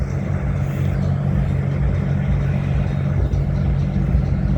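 Cars passing on a street in Montreal during the Formula 1 weekend, a steady loud engine rumble and drone that stays constant throughout with no clear individual pass-bys.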